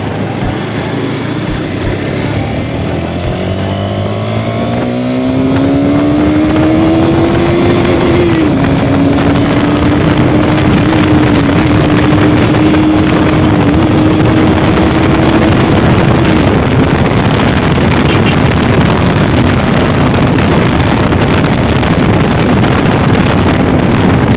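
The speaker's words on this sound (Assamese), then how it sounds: "বাইকখন আৰু অলপ ফালাফালি কৰোঁ, আপোনালোকে চাই থাকক" A motorcycle engine revs up while riding, its pitch climbing, then holds a steady loud drone while heavy wind buffets the microphone.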